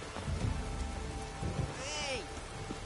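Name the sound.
rain in video game The Witcher 3: Wild Hunt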